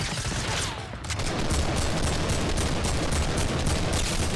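Rapid gunfire in the Fortnite battle royale game, a loud sustained burst of closely spaced shots rattling steadily for several seconds after a brief lull.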